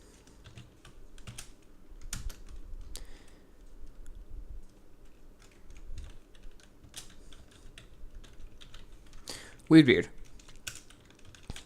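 Someone types C++ code on a computer keyboard in a quiet room, producing soft, irregular key clicks in short bursts, with one louder clatter near the end and a brief spoken word.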